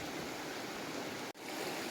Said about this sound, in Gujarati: જોઈ લ્યો કેવો અવાજ આવે છે પાણીનો